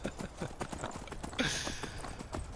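A horse's hooves clip-clop at a steady trotting rhythm as it is ridden in the Skyrim video game, a close, even beat with no talking over it.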